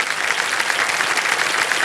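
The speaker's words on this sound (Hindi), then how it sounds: "ताली बज जाए।" Short burst of studio audience applause on the KBC (Kaun Banega Crorepati) Season 16 TV quiz show, steady and energetic clapping throughout with nobody speaking.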